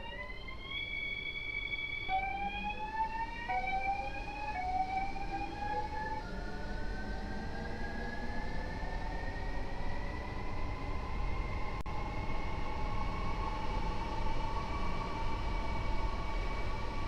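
A V-IRM train in a train simulator video game gives off electric traction motor whines that rise in stepped tones and then climb smoothly as it gathers speed, steady and fairly quiet, with no talking.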